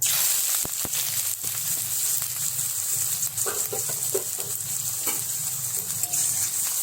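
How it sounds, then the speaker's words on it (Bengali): Chopped onions dropped into well-heated oil give a loud, steady hiss of sizzling, with a few sharp clicks near the start and brief stirring scrapes partway through. "আমাদের তেলটি ভালোভাবে গরম হয়ে এসেছে গরম করার মধ্যে পেঁয়াজ কুচিগুলো দেবেন"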